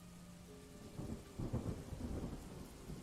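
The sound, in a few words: thunder and rain sound effect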